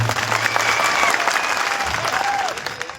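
A crowd at a political rally applauds, producing a loud, dense wash of clapping that stays steady throughout, with a few faint voices and calls mixed in.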